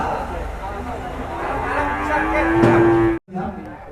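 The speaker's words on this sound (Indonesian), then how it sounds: "Ini ada sapi unik ya." A cow at a cattle contest moos in one long, rising call that builds over about three seconds and cuts off abruptly, heard over a noisy crowd with people talking nearby.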